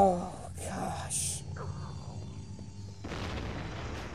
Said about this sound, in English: Stop exploding.